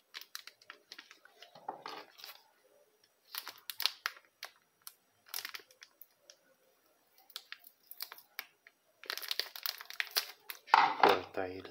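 Sealed plastic packaging around an Intel Pentium G4400 processor is cut and torn open, with scattered crinkling, snipping and rustling bursts separated by quiet gaps, then a louder crackle at the end, while someone talks softly in between.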